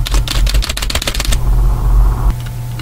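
Rapid computer keyboard typing, a dense flurry of close, crisp key clicks that stops abruptly partway through, leaving a steady low hum with a few faint clicks near the end.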